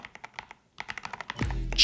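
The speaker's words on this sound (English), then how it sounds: "Premium linear switches and pleasant typing sound" Rapid keystrokes on an Ajazz AK966 gasket-mount mechanical keyboard with linear switches, a close, soft, steady patter of clacks with a brief pause, then a louder thump at the end.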